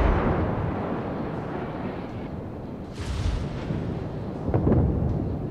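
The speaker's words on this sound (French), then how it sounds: "on recharge très vite, hein, vous avez vu, c'est plutôt cool, donc on peut tirer assez constamment" Main battery salvos from a warship in World of Warships, rendered as deep, booming blasts with a rumbling low-end tail, several heavy bursts spread across a few seconds over continuous battle ambience.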